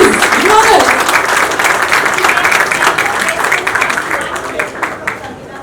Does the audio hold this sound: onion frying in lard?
no